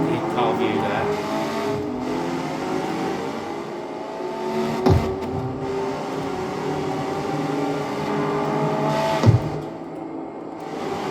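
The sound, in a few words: racing car engine in video game Street Car X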